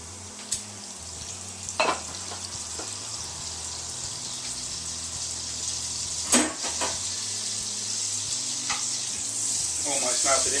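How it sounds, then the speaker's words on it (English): Butter sizzles and spits in a hot frying pan during low-carb lasagne cooking, a steady close hiss broken by occasional sharp crackles and light clinks. "Almost melted instantly because the pan is hot."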